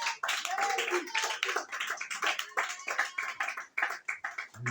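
A church congregation applauds during a Sunday service, with dense, sustained clapping at a steady rhythm and a few voices mixed in.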